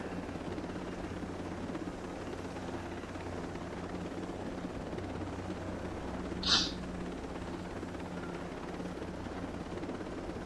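Helicopter in the video game Tom Clancy's Ghost Recon Breakpoint, a steady low rotor-and-engine drone running unbroken throughout, with one brief high chirp partway through and no talking.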